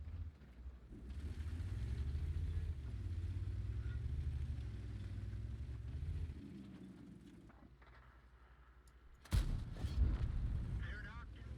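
In World of Tanks, a heavy tank's engine rumbles steadily, then a single sharp cannon blast and impact crack out near the end, with a voice talking over the game.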